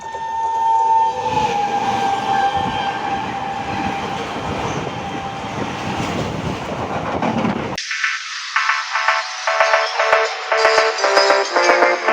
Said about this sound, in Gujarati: હવે છેક મિત્રો ટ્રેન આવી જો